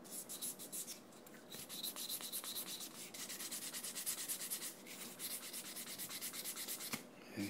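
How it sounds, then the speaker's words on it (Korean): Rapid, rhythmic rasping strokes of a file against a fingernail tip, close and fairly quiet, continuing in quick back-and-forth bursts. "손톱 끝 위에 부분 여기다 좀 문질러 줘야"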